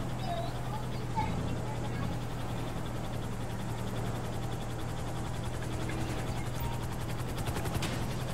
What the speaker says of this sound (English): Come on, helicopter!